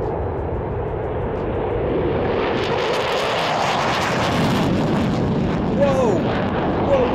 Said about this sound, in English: you can look at how an F-15 takes off